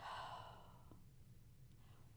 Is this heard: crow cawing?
no